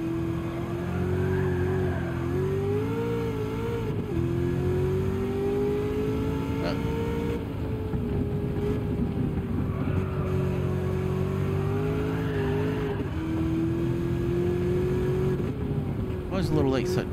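A manual Clubman 700 race car in Gran Turismo 7 holds a steady, loud engine drone throughout, its pitch rising and dipping slightly with throttle and upshifts, while a commentator talks over it.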